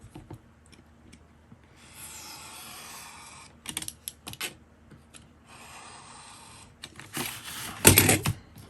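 Paper being trimmed for Christmas ephemera crafts, with soft scraping and cutting sounds, a few brief clicks, and a louder rustling burst near the end, all close and fairly quiet.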